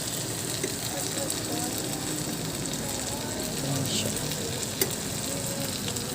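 Chicken barbecue seasoned with barbecue mix, soy sauce and kalamansi sizzles in a kawali pan, a steady, dense crackle of hot oil throughout with faint background murmur.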